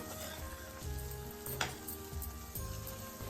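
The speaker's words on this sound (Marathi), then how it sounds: "आता हे मसाले छान परतून घेऊया" Half a spoonful of garam masala spices sautés in a hot pan, giving an even, close sizzle that holds steady for a few seconds with one brief crackling burst and no talk.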